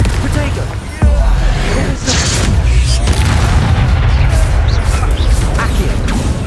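The Confringo explosion spell going off in the video game Hogwarts Legacy, with loud, dense booms and crashing blasts piling up amid the noise of combat, and a voice shouting over them.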